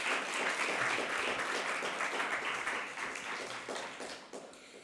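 Audience applause welcoming poets at a poetry reading, a dense steady clapping from a room of listeners that tapers off toward the end.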